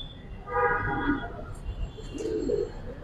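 Giribaz colouring pigeons in a loft, giving a low murmuring coo near at hand over a hum of background noise, with a second softer cooing phrase following.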